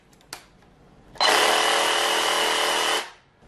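A Black+Decker cordless reciprocating saw runs unloaded in a single burst of nearly two seconds, loud and close, with a buzzing motor whine that cuts off and winds down. A faint click comes just before it starts.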